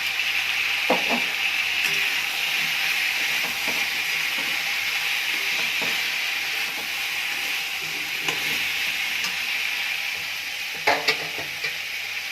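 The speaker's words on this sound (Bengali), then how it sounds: "সবজিগুলো ভাজা ভাজা হয়ে গেছে" Steady sizzling of vegetables frying in a pan, with occasional clinks and scrapes of a spatula stirring, close and fairly loud throughout.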